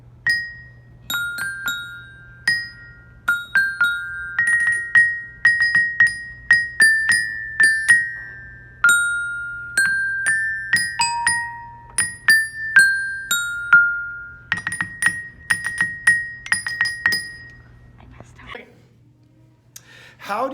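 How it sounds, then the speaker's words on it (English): School band percussionists strike bells and xylophone in a quick run of bright, ringing pitched notes, melodic and close, with sustained tones decaying between hits before ending in quiet. "Now they have moved to the bells and the xylophone, which is another instrument that percussionists play in band"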